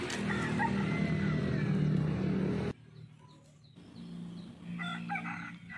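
A young chicken crows and clucks indoors at moderate distance, a rough, strained call that breaks off and then returns faintly over quiet background.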